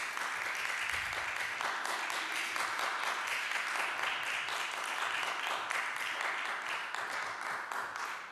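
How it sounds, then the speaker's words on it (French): Audience applause at a municipal council meeting, a steady, moderately loud round of clapping that holds for several seconds before tapering off. "On recommence avec les applaudissements."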